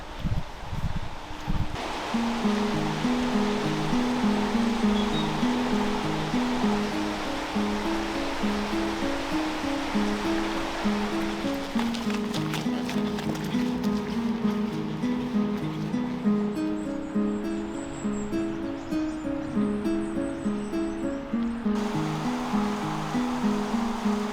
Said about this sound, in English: The River Wye, my favourite river.